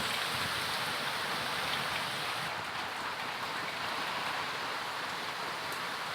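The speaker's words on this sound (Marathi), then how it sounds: "म्हणून खूप जोरात पाऊस होऊन राहिला" Steady, dense rain pours down on surfaces, a continuous broadband hiss with no breaks and no voices.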